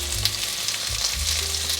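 Vegan pan-fried buns sizzling in a pan on low heat, a dense close crackle of frying with soft low bumps and thuds beneath, steady throughout with no talk.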